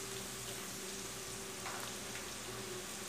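Chopped onions hitting hot oil with garlic already browned, a faint, steady frying sizzle with a slight hum beneath and no speech.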